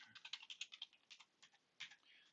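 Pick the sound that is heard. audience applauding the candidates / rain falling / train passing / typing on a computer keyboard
typing on a computer keyboard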